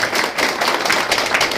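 Group applause at a Busan district party members' tea meeting, a dense, continuous patter of many hands clapping at moderate distance, steady throughout with no talk over it.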